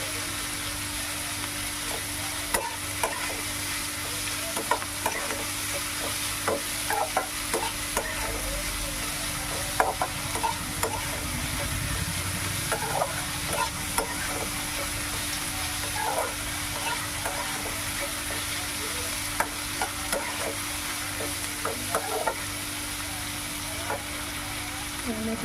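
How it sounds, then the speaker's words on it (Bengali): Onions lightly frying in a pan and being stirred, with a continuous close sizzle broken by frequent small scrapes and clicks of the stirring utensil, and no one talking. "পেঁয়াজটাকে হালকা ভেজে নেব।"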